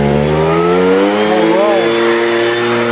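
A garden leaf blower engine running hard and revving up briefly, a loud, close, buzzing whine rising and falling in pitch, with a voice speaking over it.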